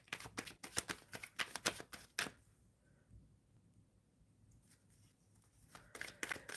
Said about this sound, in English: Shuffling for Cyan.